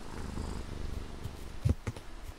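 A cat purring in the horror farming game We Harvest Shadows, a soft low rumbling purr at moderate distance, with a few brief louder thumps near the end.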